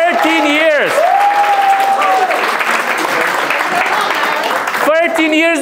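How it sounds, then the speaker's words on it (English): A comedy club audience breaks into loud, sustained applause that runs for about four seconds. A voice speaks over it at the start and again as it fades. "round of applause for this man over here"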